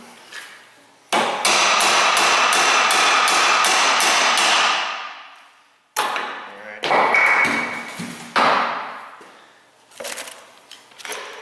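A big hammer pounds a metal U-joint cap: a quick run of about eight loud, ringing metallic blows, then a few more scattered heavy strikes after short pauses, close and dominant.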